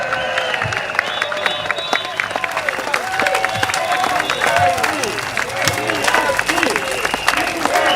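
A rally crowd at a Progress Singapore Party election rally for Marymount SMC claps and cheers in a dense, continuous wash of applause with scattered shouts, while an amplified voice speaks over it.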